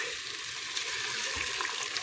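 Water splashing and pouring into a pot nearby, a short gurgling stream with a few sloshes.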